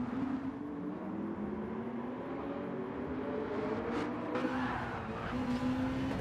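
Gr2 race car in Gran Turismo 7 at full throttle, a steady loud engine drone rising in pitch, with brief skid and tire noise near the end and no speech.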